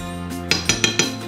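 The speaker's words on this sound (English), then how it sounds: "Give it a little stir." Utensil clinks against a pan while Alfredo sauce is stirred, four quick, light metallic taps in an even rhythm, close and fairly quiet over a steady hum.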